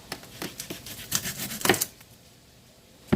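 A knife chops an onion on a cutting board, giving a run of sharp, close, irregular taps that stop partway through, followed by near silence and one last tap.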